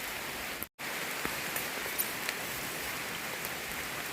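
Heavy rain pours down in a forest during a bamboo-shoot foraging trip, a dense continuous hiss with scattered louder drops striking close by, uninterrupted apart from a momentary dropout.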